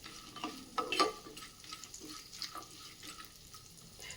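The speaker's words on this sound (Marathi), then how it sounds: "उडदाची डाळ आणि हरभऱ्याची डाळ आपण घालून घेऊयात स्लो टू मीडियम आचेवरती हे व्यवस्थित आपल्याला भाजून घ्यायचं आहे" Urad dal and chana dal dry roasting in a pan over slow to medium heat, heard as soft scraping stirs and light rustling of grains, with a few louder clatters early on, no talking.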